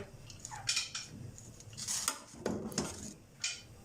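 Cooked Afghani pulao rice being mixed in a pot, with a spoon scraping and clinking against metal in irregular close strokes, no voice.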